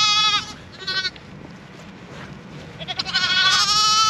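Ewes and lambs bleating in a field during lambing season, several calls near and far, a clear bleat at the start and a louder chorus of overlapping bleats at the end, over a soft outdoor background.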